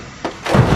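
A car crashes on a rough quarry road in the driving game BeamNG, a brief hollow thunk followed by a heavier, louder thud of impact.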